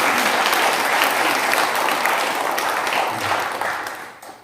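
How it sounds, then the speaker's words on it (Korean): Church congregation at an Easter service applauding in thanks, a dense, steady burst of clapping from the whole room that fades out toward the end. "감사 박수 한번 드립시다"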